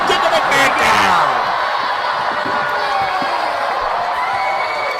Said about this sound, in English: Listen to the sellout crowd here in Doha.